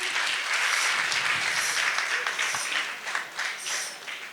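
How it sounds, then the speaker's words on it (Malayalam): Audience applause at a YWCA Christmas celebration in Kottayam, a dense, sustained clapping from a crowd that slowly thins toward the end. "ഒരു അടിപൊളി കയ്യടി കൊടുക്കാം."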